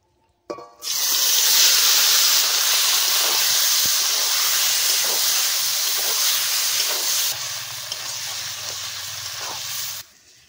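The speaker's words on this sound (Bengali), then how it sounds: "এবার কড়াইয়ে মাংসগুলো দিয়ে দিচ্ছি।" Mutton pieces dropped into a hot kadai of oil give a loud, steady sizzle with hissing spray, lasting about nine seconds and easing slightly near the end, with no talking.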